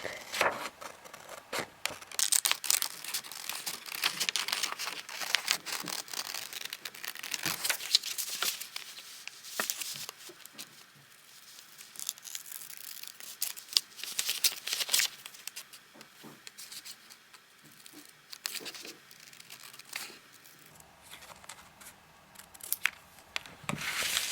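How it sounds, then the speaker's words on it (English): Scissors snip and rustle through paper, cutting out an owl shape in quick irregular cuts, with crinkling and handling noises, close and fairly quiet. "now we're going to take our scissors and we're just going to cut out the owl shape"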